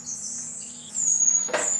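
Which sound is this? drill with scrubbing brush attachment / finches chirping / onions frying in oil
finches chirping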